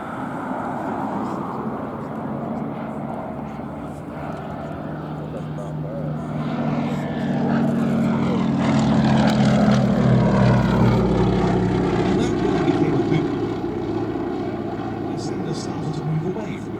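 A Westland Lysander propeller aircraft flies at the Shuttleworth Festival of Flight, its engine drone swelling as it passes overhead and then fading, with a voice talking over it throughout.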